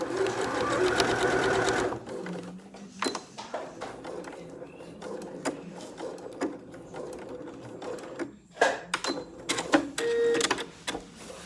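A sewing machine with a zip foot stitching a bodice lining seam, a fast loud mechanical whirr at first, then stopping for quieter clicks, taps and handling of fabric and parts.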